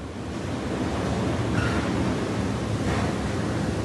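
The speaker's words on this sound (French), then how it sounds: "une femme seule, effrayée par le fracas assourdissant du vent." Cyclone wind roaring in Mayotte with gusts reaching 226 km/h, a loud, continuous, dense roar that swells slightly midway without letting up.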